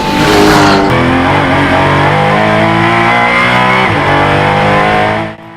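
Porsche GT4 Clubsport race car on the Eurospeedway Lausitzring circuit roars very loud and close, its engine note holding a steady, harmonic-rich howl under load before cutting off abruptly at the end.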